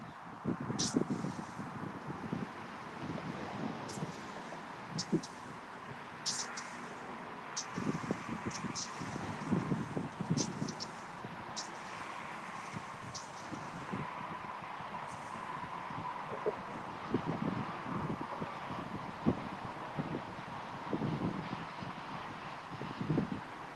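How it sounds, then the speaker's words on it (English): Wind blows outdoors on a mildly chilly day in Houston, producing a continuous low rumble and gusty buffeting against the microphone that rises and falls over about twenty-four seconds. "It's a little bit windy."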